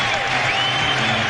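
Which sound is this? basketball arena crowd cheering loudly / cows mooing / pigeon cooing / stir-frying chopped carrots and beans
basketball arena crowd cheering loudly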